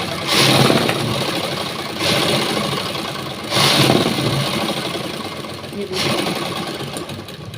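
A domestic sewing machine stitches a seam on blouse fabric in three bursts of steady running whir, with brief pauses between them, close up while someone talks over it.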